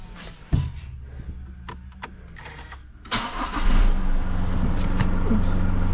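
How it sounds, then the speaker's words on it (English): A 2022 Isuzu MU-X engine cranks and catches about halfway through, then settles into a steady, fairly loud idle close by after a few clicks and handling sounds. "So I'll start the engine"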